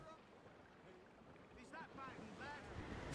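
Wind gusts over open sea in Assassin's Creed Rogue, a soft, broad rushing mixed with faint wave wash, steady and low in level, with brief voice-like tones near the end.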